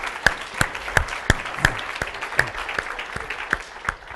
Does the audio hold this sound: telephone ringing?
no